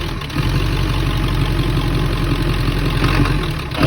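A Ford 7.3 diesel engine runs with a rough idle on startup, a loud, steady, close-up low rumble with an uneven pulsing beat throughout.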